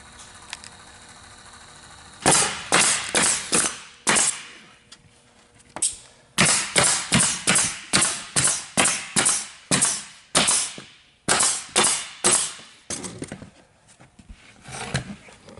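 A power gun fastening a part down on a Jayco camper, rapid bursts of sharp mechanical rattling hits in quick runs, close and loud, with short pauses between runs.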